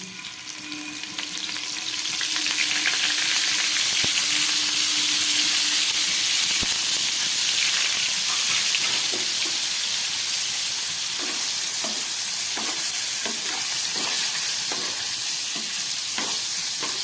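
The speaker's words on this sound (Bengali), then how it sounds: "এবার আমি এর মধ্যে নুন মাখানো পনিরগুলো ভেজে নিচ্ছি" Salted paneer pieces fry in hot oil, a dense, steady sizzle that swells after the first couple of seconds and stays loud and close, with light stirring clicks later on.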